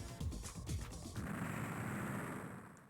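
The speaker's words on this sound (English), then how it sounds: "Kapow! And other such explosions." A dense roar of rapid, overlapping explosive blasts and gunfire-like bursts from the Amiga game Microcosm, loud and close, which settles into a sustained rumbling wash of noise.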